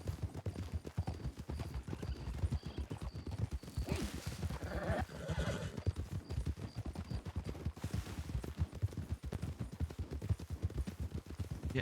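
Steady rhythmic hoof clip-clop of a horse running in the video game WildRP, continuous throughout, with a brief whinny and some distant gunfire-like bursts in the middle.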